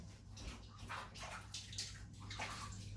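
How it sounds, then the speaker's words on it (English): Hot soapy water running and sloshing as hands are washed, a continuous faint splashing stream with uneven bursts and no voices. "Wash your hands in hot soapy water,"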